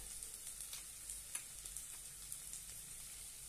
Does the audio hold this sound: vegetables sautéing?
yes